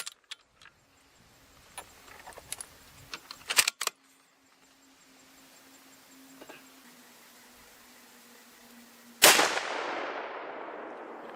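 A .338 Weatherby RPM rifle fires a single loud, sharp shot at a range, its blast decaying into a long trailing echo after several seconds of small handling clicks and a faint, steady background hum.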